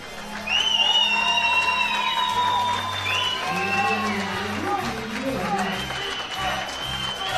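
Spectators at a women's powerlifting European championship applauding and cheering a lifter, a steady loud crowd roar with clapping and whistles alongside music and an announcer's voice.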